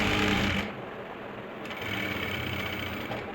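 A sewing machine stitches an Afghani salwar, a close, quick, steady mechanical whirring that eases slightly after the first half second and continues evenly to the end.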